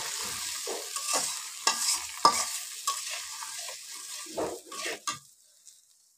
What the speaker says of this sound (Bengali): দিয়ে মশলাগুলো ভালো করে ভেজে নেব।